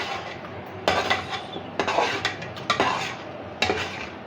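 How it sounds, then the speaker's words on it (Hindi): Mutton being stir-fried in spice masala for yakhni pulao, with several sharp scraping and clinking strokes of a spoon against the pot over a soft background sizzle, the strokes coming irregularly and fairly close. "अब हम इसमें मटन डालेंगे जिसकी हमने यखनी निकाली है और उसको अच्छी तरह से इस मसाले में भून लेंगे।"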